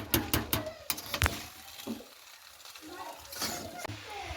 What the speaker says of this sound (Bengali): চিনিটা দিয়ে কিন্তু খুব ভালো মতো করে নাড়াচাড়া করে নিতে হবে।